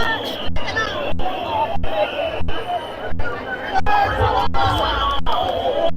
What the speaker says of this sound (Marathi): भरपूर गर्दी